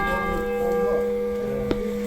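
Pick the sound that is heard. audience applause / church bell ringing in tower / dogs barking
church bell ringing in tower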